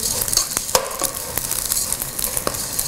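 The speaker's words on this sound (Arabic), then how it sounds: "بنقلب الرز مع الشعيريه والزيت" Rice and vermicelli are stirred in oil in a pan, giving a steady sizzle with sharp scraping strokes at irregular intervals, close and fairly loud, with no talking.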